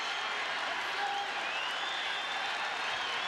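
Around 40,000 fans at M&T Bank Stadium during an NCAA lacrosse championship final cheer and applaud in a broad, distant, steady roar, with a broadcast commentator talking over it.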